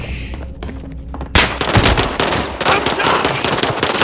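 Video game gunfire erupts after a quieter stretch, loud rapid bursts of automatic shots and scattered single cracks filling the rest of the moment.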